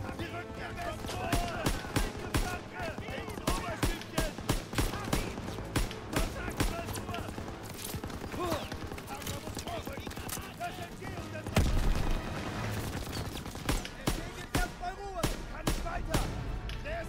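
Rapid gunfire from a Call of Duty WW2 battle on Hill 439, with repeated sharp bursts and shots throughout, heard over German voices calling to advance and suppress the machine gun.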